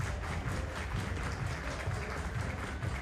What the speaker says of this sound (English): Round of applause from everybody still in appearance.